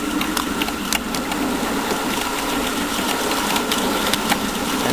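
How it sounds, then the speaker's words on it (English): A Maxitrak live steam model locomotive runs with its blower on, giving a continuous rushing hiss and chuffing mechanical clatter with light ticking, all close and fairly loud. "As we're just coasting down here, I'll put a little bit of blower on just to maintain the fire while we're running."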